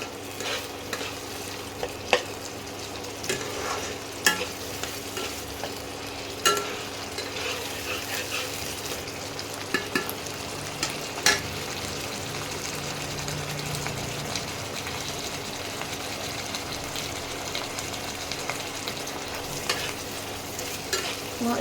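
Ginger garlic paste sizzles steadily in a pan of hot oil while a spoon scrapes and stirs it, making scattered clicks and knocks over a continuous frying hiss, close up with no talking.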